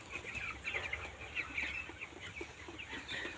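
Broiler chickens cluck continuously on a village poultry farm, many birds chattering at once in a busy, moderately close flock with no talk over them.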